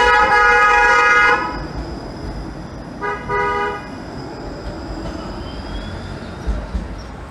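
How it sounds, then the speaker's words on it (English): Several car horns honk at a Toronto streetcar in Kensington Market, in long sustained blasts at first and then a shorter burst, loud and close over steady street traffic. "hence all the honking"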